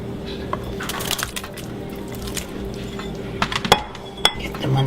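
Heavy meats and meatballs drop into a pot of simmering gravy, giving scattered clinks and knocks against the pan with soft wet squishes, fairly close, over a steady kitchen background hum.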